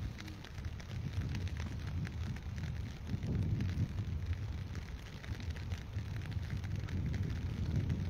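Wind gusting over an open-air fishing spot in the rain, a continuous low rumbling roar with rain hiss mixed in, swelling slightly midway and staying loud throughout.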